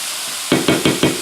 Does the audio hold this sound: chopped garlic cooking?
yes